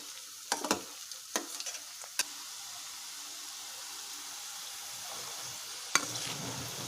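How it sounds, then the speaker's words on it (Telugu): Bitter gourd pakodi pieces deep frying in oil, a steady soft hiss of bubbling oil with a handful of sharp clinks and stirs early on and one near the end. "ఇలా కాకరకాయ ముక్కలన్నీ బాగా డీప్ ఫ్రై చేసుకోవాలి బ్రౌన్ కలర్ వచ్చే వరకు"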